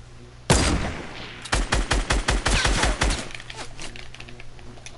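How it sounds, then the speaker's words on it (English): Video game shotgun fire: one loud blast, a short pause, then a fast run of about ten close, punchy shots fading into a ringing tail. "Then they fire shotgun. That's the new shotgun."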